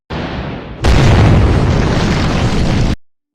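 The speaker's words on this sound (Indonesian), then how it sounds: "tiba-tiba terjadi ledakan di dalam gudang" A loud, sudden blast from a gas leak explosion inside a shed erupts into a sustained roaring rumble that lasts about two seconds, then cuts off abruptly; no voices.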